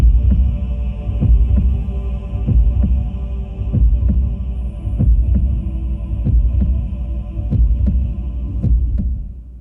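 A heartbeat of Cybertron's core rendered from data into audio: a deep, steady double-thump pulse repeating evenly over a low droning hum, loud and close, with no voices.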